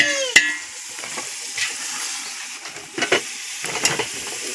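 Chicken cooking in a pot over a three-stone outdoor fire, with steady sizzling and frying hiss, occasional stirring scrapes and a brief sharp clink near the start.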